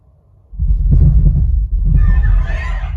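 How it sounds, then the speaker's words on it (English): A heartbeat bass effect played at reference volume through an MK Sound X15+ subwoofer: after a brief quiet start, deep, loud rumbling throbs pulse steadily, with a faint hiss rising above them near the end. "That's the heartbeat."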